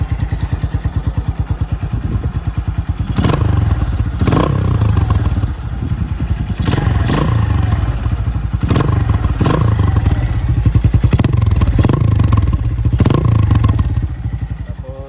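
Exhaust of a Keeway Cafe Racer 152 motorcycle runs close and loud with a steady, throbbing idle, punctuated by several sharp revs that rise and fall across the stretch, with no voices.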